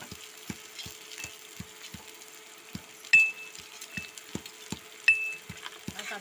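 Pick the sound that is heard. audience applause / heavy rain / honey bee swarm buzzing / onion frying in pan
onion frying in pan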